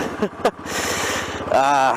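A Royal Enfield Bullet 500 motorcycle engine revs up sharply near the end, rising in a steady drone after a stretch of lower idling rumble with short bursts.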